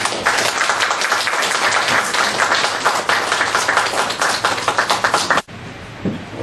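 Audience at a Korean forum celebrating a presidential inauguration claps to welcome a pastor taking the stage, a dense, lively round of applause that stops abruptly, followed by near quiet.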